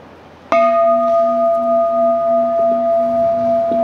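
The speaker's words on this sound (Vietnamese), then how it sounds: "Nghe tiếng chuông" A Buddhist temple bell is struck once during a dharma talk, a sudden clear strike that blooms into a long, pure sustained tone with a gentle pulsing waver, loud and near, ringing on alone.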